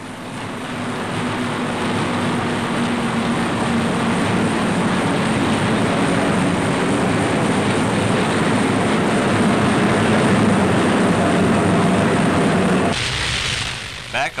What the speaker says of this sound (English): the forts cruise over the Japanese capital, making sure of their target